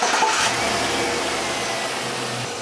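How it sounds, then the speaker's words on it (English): A 2004 Chevrolet Tahoe with the 5.3 V8 engine starts and settles into a steady mid-pitched idle, loud and close, with no talking. "So what I'm going to do is I'm going to start the engine."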